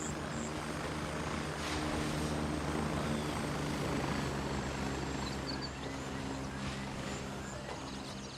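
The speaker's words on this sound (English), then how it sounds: "I do hear a helicopter coming in." Helicopter approaching in the military shooter game Gray Zone Warfare, a steady continuous rotor drone that holds loud and even throughout, with a faint broadband outdoor wash behind it.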